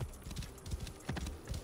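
Horse hooves clip-clopping in the video game Assassin's Creed Origins, a quick steady trot of close, clear hoofbeats at moderate loudness, with no talk.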